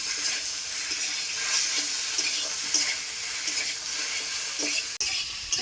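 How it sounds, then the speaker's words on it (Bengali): Snakehead fish head and taro pieces sizzle steadily in hot oil in a pan, with stirring scrapes through a continuous, fairly loud frying hiss and no talking. "এই কচুগুলোর সাথে মাছের মাথাটাও দিয়ে আমি ভালো করে একটু ভাজা করে নেবো"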